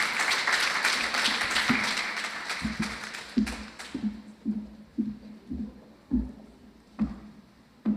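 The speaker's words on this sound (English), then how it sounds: "Give her a round of applause." An audience at a white coat ceremony claps, a dense roar of applause at first that thins into scattered individual claps and fades out.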